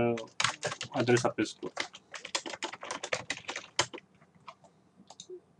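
Brisk computer keyboard typing, a rapid run of close clicks while someone enters an address, partly under a man's speech, then fading to a few scattered taps.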